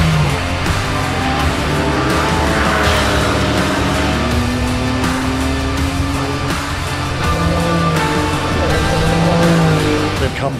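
Porsche Cayman GT4 race cars at full throttle in a Cayman GT4 Trophy race, engines droning loud and steady with rising and falling pitch as the cars pass, mixed with faint commentary.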